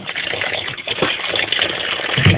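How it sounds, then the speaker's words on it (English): Water pours steadily and fairly loudly from a container back into another vessel while a hibiscus and baobab drink is made, a continuous gushing splash with no talk. "And then now I can pour this back in here."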